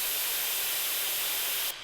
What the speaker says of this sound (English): this really sounded like an air can, like a spray paint can